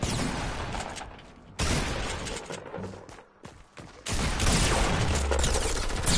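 Rapid bursts of automatic gunfire crackle in a Fortnite match, mixed with loud single shots and mechanical clatter. The firing stops briefly, then returns even louder near the end.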